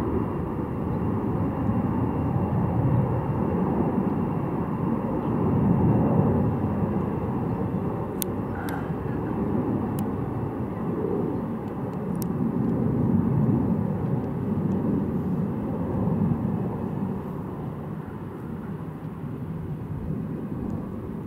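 A Singapore Airlines Boeing 777 takes off at Hong Kong Airport, a sustained broad roar of jet engines that swells and eases over about twenty seconds, heard from a distance with a few faint clicks.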